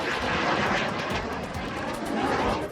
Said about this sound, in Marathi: हवेत प्रात्यक्षिकं करत असलेलं विमान जमिनीवर कोसळलं.